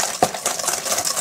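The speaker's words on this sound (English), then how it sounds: "And whisk." Dry baking ingredients, including a little kosher salt, whisked briskly in a mixing bowl, producing quick metallic clinks and scraping swishes up close in a short burst.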